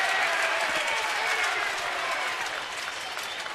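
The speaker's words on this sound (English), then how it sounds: "Every time he throws a strike, we hear applause coming up from below." Applause rising from a stadium crowd at a Detroit at Baltimore baseball game after a pitched strike, broad diffuse clapping and crowd noise filling the space, somewhat distant and steady, easing slightly toward the end.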